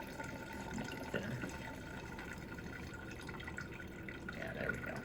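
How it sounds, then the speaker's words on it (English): Thin stream of water running from a tap in a classroom demonstration, a steady faint trickle and splash with soft dripping throughout, no talking. "You get the stream of water to actually bend towards PVC."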